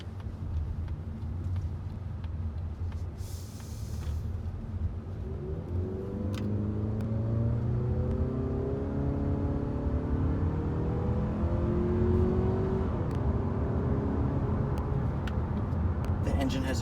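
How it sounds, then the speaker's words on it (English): A 2019 Mazda3 hatchback's 2.5-liter four-cylinder engine revs up from a low rumble, its pitch climbing and holding as the car gains speed, loud and steady throughout. "So it still has a nice aggressive sound, even though it is on the smaller end of the engines that Mazda has to offer."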